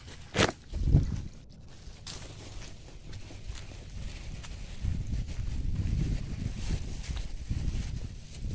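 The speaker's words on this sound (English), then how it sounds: "This wind is giving me a hard time" Outdoor wind gusts during a newspaper delivery run, rumbling and buffeting against the microphone in a low, continuous roar that swells midway, with a couple of sharp handling bumps near the start.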